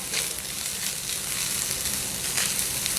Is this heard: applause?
no